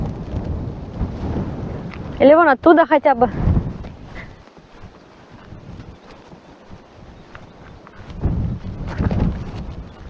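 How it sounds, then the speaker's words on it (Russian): Strong wind on the open Kazakh steppe buffets the microphone in low rumbling gusts while people talk close by. "Блин, ветер, конечно, такой сильный"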